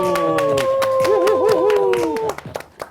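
Studio staff clap along in a broadcast studio, steady rhythmic claps beating under a sustained singing voice. The claps carry on briefly and more sparsely once the singing stops.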